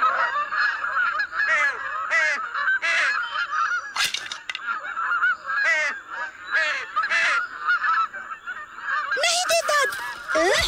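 Goose-like bird honks, a series of loud, nasal calls repeated in irregular bursts, close by and clear, with a harsher flurry of calls near the end and no talking.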